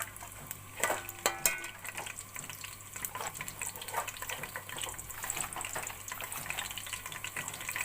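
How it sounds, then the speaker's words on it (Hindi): White cumin seeds fry in a pan with a soft, steady sizzle and a few light stirring clatters near the start, continuing evenly throughout with no talk. "और 1 टीस्पून सफ़ेद ज़ीरा। अब इसको थोड़ी देर फ्राई कर लेंगे।"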